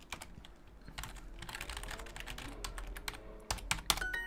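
A computer keyboard is typed on quickly and continuously, with dense clicking that swells into a busier flurry of sharper key hits toward the end. No voice is heard.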